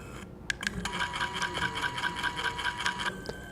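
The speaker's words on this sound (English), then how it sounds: "That noise sounds bad. Don't worry about it. It's not bad. That is the stepper motor." Stepper motor in a Protrim Elite automatic trimming scissors machine, a close, steady whining buzz with rapid rhythmic ticking pulses, starting and stopping after a few clicks.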